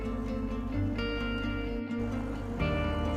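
A Maserati Quattroporte's normally aspirated, Ferrari-designed 4.2-liter V8 idles with a steady, close low rumble and a dense stack of harmonics, holding an even tone throughout with only a brief dip partway.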